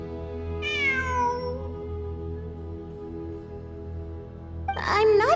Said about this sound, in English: It really is a cat.